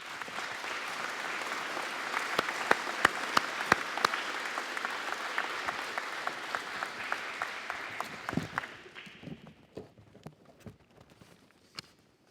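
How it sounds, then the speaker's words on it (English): An audience at a Veterans Day celebration applauds with sustained, fairly loud clapping that fades out about two thirds of the way through, leaving a few scattered claps and faint room noise. "we're going to give you all a round of applause for your efforts"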